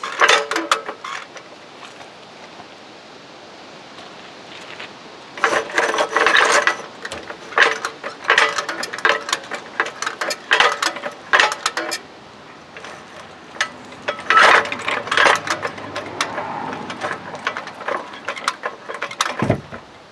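A jack is worked to raise and bend a brace on a 6x12 Carry On 3500 lb cargo trailer during an axle swap, with bursts of ratcheting clicks and creaking metal strain separated by short pauses, near and fairly loud.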